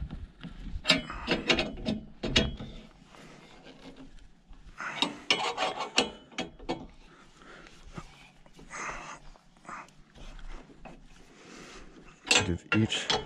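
Lug nuts on a vehicle wheel being tightened one after another with a ratchet during a license plate relocation kit install, giving bursts of rasping clicks separated by pauses, close and fairly loud with no talking.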